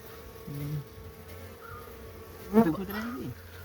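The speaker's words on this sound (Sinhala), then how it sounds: "මැස්සෝ ඉන්නනේ" Honey bees from a wild colony inside a fallen kitul log on a tea estate hum faintly and continuously, with one bee buzzing loudly past the microphone near the end.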